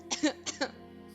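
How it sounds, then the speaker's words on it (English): Two quick bursts of coughing blended with a laugh, short and close, each a couple of rough, breathy pulses separated by a brief pause. "please don't cough and laugh at the same time"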